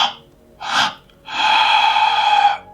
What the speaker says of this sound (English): He makes meditations with deep pranayama breathing, and they are like, it is done like this.